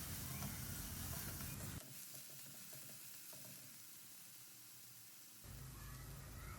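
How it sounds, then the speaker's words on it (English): Onion, ginger and garlic sautéing in a pan, a close, steady sizzle that drops to a quieter simmering hiss partway through and then rises again, with no speech. "We saute them well until the onion, ginger, garlic turns golden brown and the raw taste goes away."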